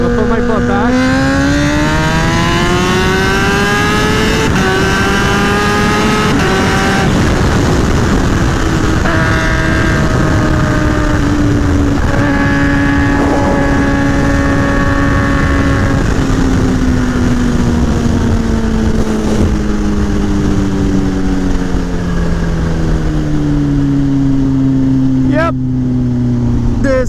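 Kawasaki Ninja H2 motorcycle pulling hard in third gear, a loud, steady engine howl with smooth pitch sweeps that runs close and unbroken for the whole stretch, under wind rush.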